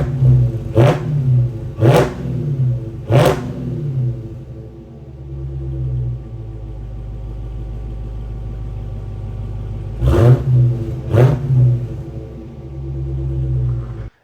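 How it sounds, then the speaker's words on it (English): A 2021 Dodge Charger Hellcat Redeye with its mid muffler deleted idles with a loud, deep rumble after a cold start, punctuated by five sharp, close revs in two groups. "how it sounds from a cold start and a few revs"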